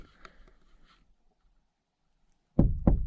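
Two loud, close knocks strike the back of a truck at a campsite, following a few faint taps and then a short silence.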